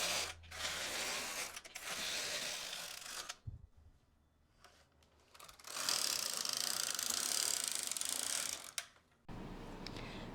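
A knitting machine carriage is pushed across the needle bed to cast off with yellow waste yarn, giving loud ratcheting, clattering passes separated by short pauses, alone with no talk.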